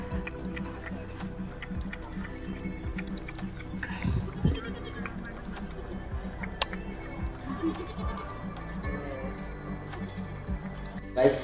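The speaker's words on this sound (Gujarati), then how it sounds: "બાકી ઘેટા તો જો ગાઈસ" Sheep and goats bleating at a farmyard home, several calls scattered over steady livestock noise with some background voices.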